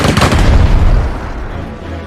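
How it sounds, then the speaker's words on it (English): Enemy artillery fire in the strategy video game Strategic Mind: Blitzkrieg: a loud, deep booming blast that rolls and fades over two seconds, with no talking. "Beware the fire support of the enemy artillery."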